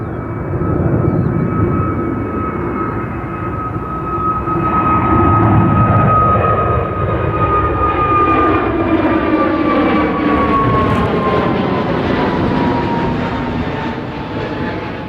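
An EasyJet Airbus A320 jet takes off at Gatwick Airport with a loud, sustained engine roar and high whine that shifts steadily in pitch as it passes, filling the full fifteen seconds without talk.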